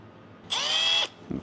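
A cordless drill spins a valve with lapping compound while engine valves are reseated, giving one steady high whine of about half a second. A soft knock follows as the drill stops.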